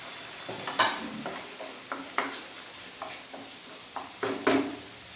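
Green chillies sizzle in a pan with onion and capsicum for chilli chicken, a ladle stirring in a string of scraping taps over a soft frying hiss, close and fairly quiet.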